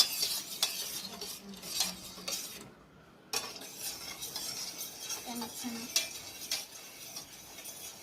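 A utensil stirs a jelly mixture in a pot, making repeated scraping and clinking strokes. There is a short quiet gap partway through, then the stirring resumes.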